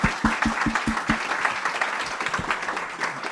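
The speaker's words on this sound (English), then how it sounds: "A round of applause for our panel," An audience applauds a panel at a resilience science event in NYC, opening with several sharp distinct claps that blend into a steady wash of applause from a crowd.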